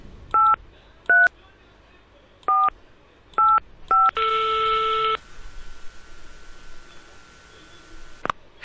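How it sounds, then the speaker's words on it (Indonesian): An old-style telephone in a kids' PC learning game dials five short touch-tone beeps in an uneven rhythm, then a longer steady tone and a fainter held line tone end in a click, all clear and close with no talking. "Nah, ini telepon zaman dulu seperti ini."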